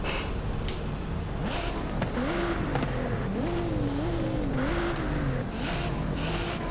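A tuned Nissan GT-R R35 engine in Forza Horizon 5 revs repeatedly, its pitch climbing and dropping in bursts, with bright synthetic-sounding exhaust tones.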